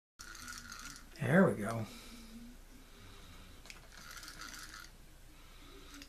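A Norseman 110 spincast fishing reel being serviced, its internal gears clicking and ratcheting in a short close burst before the drag is tightened, followed by faint mechanical rustling while someone speaks briefly.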